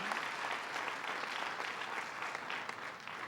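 The audience at a 2006 high school graduation ceremony claps steadily, a dense, even wash of applause that stays fairly faint and distant throughout, with no voices over it.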